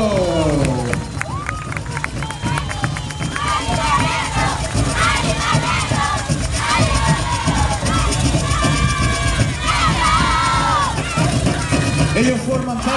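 An outdoor carnival crowd at Arica cheers, whoops and shouts continuously, loud and busy, with voices and festive noise layered throughout.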